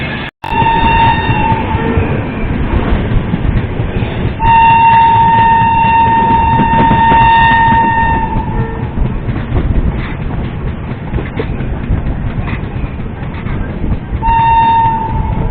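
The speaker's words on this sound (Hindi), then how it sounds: "तो हमारी निकल चुकी है देहरादून गोरखपुर राप्ती गंगा एक्सप्रेस" The Dehradun–Gorakhpur Rapti Ganga Express pulls away from a platform, with continuous loud rumbling of wheels and carriages and repeated horn blasts near the start, middle and end.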